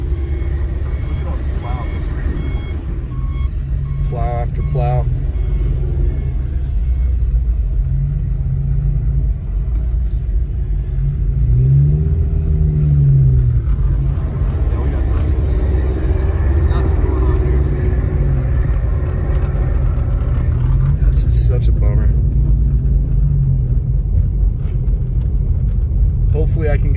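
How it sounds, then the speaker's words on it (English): Several snow plows drive past one after another on a road near Big Bear during a storm, a continuous heavy engine rumble swelling and fading as each vehicle passes close by. "Look at all these plows, that's crazy. Plow after plow."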